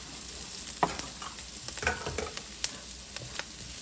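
Garlic and ginger aromatics sizzle in oil in a pan for a vegetarian pad thai, a steady close crackle with scattered stirring scrapes and clicks, no talking.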